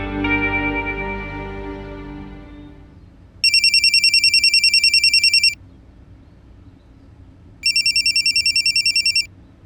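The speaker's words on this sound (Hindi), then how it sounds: "लक्ष्मी का फोन है।" A mobile phone ringtone plays in two loud electronic bursts separated by a pause, following a fading musical tone.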